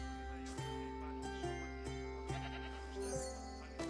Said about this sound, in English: If you like, we can feed them to the goat.